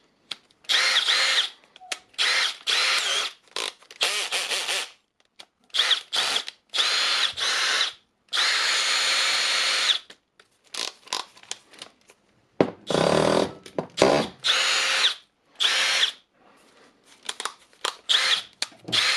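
A Milwaukee M18 hammer drill, just fitted with a replacement controller, runs in repeated loud bursts of whirring and hammering, each a second or two long, separated by short pauses.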